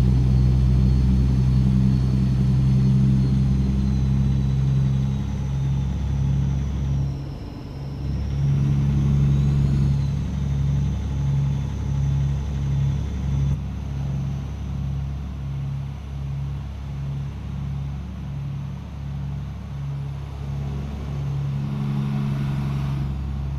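A new truck driving along at moderate speed, its engine a steady low hum with slight swells as it eases on and off the throttle, close and continuous from inside the cab with no talking.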